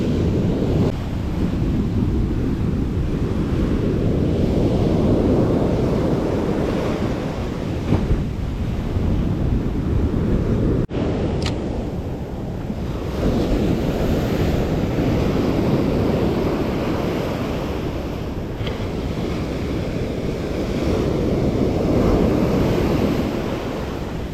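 Heavy sea surf rolls onto the Karasu shore where people are fishing, a loud continuous roar of breaking waves mixed with strong wind buffeting the microphone, with no voices.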